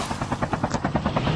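A helicopter arrives in the mobile shooter Call of Duty Mobile, its rotor giving a loud, steady rapid chopping pulse throughout, close and unbroken with no talk over it.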